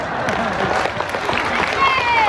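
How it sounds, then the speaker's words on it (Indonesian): A mosque congregation claps during a sermon, a steady mid-level burst of applause with a voice audible over it. "Tepuk tangan."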